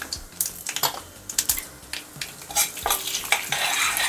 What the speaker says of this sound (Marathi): मोहरी घातली, थोडं जिरं घालायचं आहे. आणि ही उडदाची डाळ घालायची त्याच्यात.